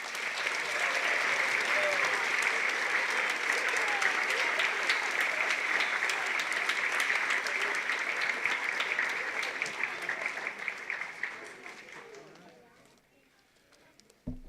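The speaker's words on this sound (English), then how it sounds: "Let's give them another round of applause." Audience of kindergarten families at a school musical applauding, a dense steady clapping that carries on for about ten seconds and then fades out, with a voice briefly heard at the end.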